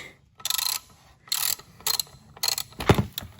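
A ratchet wrench loosens bolts on an electric dirt bike's skid plate in quick bursts of clicking, four close, crisp runs separated by short pauses, followed by a dull metallic clunk.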